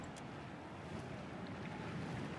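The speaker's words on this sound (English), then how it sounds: "The water rains down, cascading across the dry stone ground, meeting the rising water at the edges of the fighting pit." Water rains down and floods a stone fighting-pit arena in Pillars of Eternity 2, a constant surf-like rushing roar with a low rumbling undertone, even and soft, no voices.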